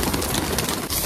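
Pigeons coo amid a dense flutter of birds at feeding time, close and loud, with continuous rustling and overlapping calls.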